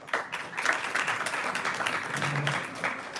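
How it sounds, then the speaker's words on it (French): Audience applause at the close of a French-language Hanukkah lecture given by a rabbi, steady and moderately distant clapping filling the whole stretch without a break. "Faut pas applaudir, c'est pas un spectacle, mais bon."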